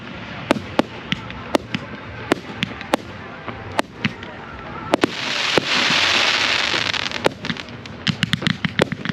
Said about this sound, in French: le feu d'artifice était vraiment cool